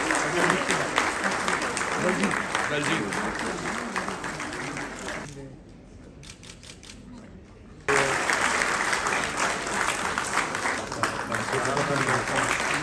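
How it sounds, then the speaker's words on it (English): An audience claps at a World Habitat Day 2022 celebration ceremony. The sustained applause briefly dies down to near quiet midway, then surges back loud and dense. "Please keep your applause going."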